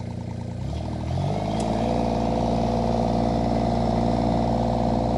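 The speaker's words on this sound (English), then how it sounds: "Bring the machine up to about 2300 RPM." The Derette XC1100 machine's engine revs up from idle to about 2300 RPM, a deep harmonic drone that rises in pitch over the first two seconds and then holds steady and loud.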